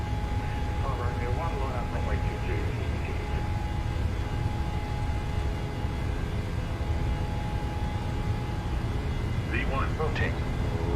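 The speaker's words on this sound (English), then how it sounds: "Takeoff power set." A Boeing 737-800 spools up to takeoff power in Microsoft Flight Simulator, a steady low engine roar sustained throughout, with a voice talking over it near the start and end.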